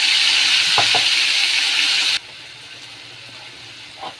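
A ground spice mixture is added to a pan of fried potatoes and sizzles with a loud, steady hiss that cuts off abruptly halfway, leaving quiet stirring and a faint clink.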